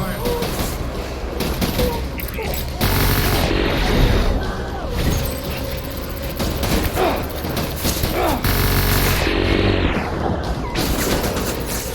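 Dense, chaotic gunfire in the Death Stranding video game, with a battle raging continuously amid loud crashes and booms; voices are heard through the mix.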